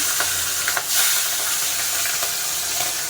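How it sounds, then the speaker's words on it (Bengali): Food frying in hot oil in a home kitchen gives a steady close sizzle and hiss with occasional crackles and stirring, and nobody speaks. "তো এই যে তেল গরম হয়ে গিয়েছে, একটু ভেজে নিই।"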